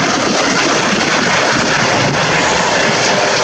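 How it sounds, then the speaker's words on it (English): An LUH military helicopter sets down at an airshow, a loud, constant engine and rotor roar heard up close and unbroken, with no voices over it. "the first of the LUH helicopters has landed to recover the troops deployed to the village"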